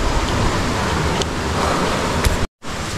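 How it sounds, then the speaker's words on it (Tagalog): Water pouring down from the mountain above into Tung-Ab Lagoon in Floridablanca, Pampanga, a loud, steady, hissing rush of falling water that briefly cuts out near the end, with no talking. "may mga tubig-tubig na nanggagaling sa taas"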